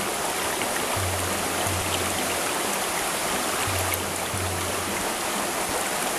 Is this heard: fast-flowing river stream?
yes